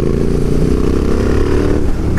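A Royal Enfield Interceptor 650 motorcycle riding along, its engine a steady, loud, continuous drone close by, with no one speaking.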